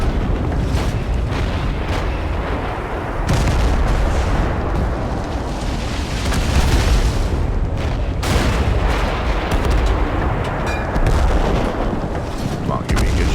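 Heavy, continuous battle noise in Total Conflict: Resistance, with booming gunfire and artillery-like blasts rolling on without pause, loud and dense, with a voice speaking at times.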